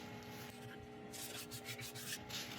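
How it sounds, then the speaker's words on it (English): Abrasive paste being worked onto turned elm on a lathe, giving a steady close rubbing and sanding hiss over a low constant motor hum, with brighter rasping bursts toward the end. "I'll go on with the Northern Grit abrasive paste"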